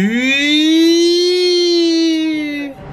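A loud, steady siren wail from a nearby fire station in Japan, holding a rising-then-level tone for nearly three seconds before cutting off abruptly.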